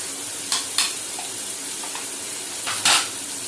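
Potatoes and cauliflower stems with spices sizzle steadily in a hot pan as a spoon stirs them, giving two pairs of sharp scraping strokes over the constant frying hiss, close by.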